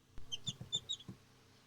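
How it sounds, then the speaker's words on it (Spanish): Newly hatched chicken chick in a home incubator gives a few quiet high peeping chirps in quick succession, faint and close, with a soft low thump among them and no talk. "el primer pollito nacido en esta segunda incubación en nuestra incubadora casera"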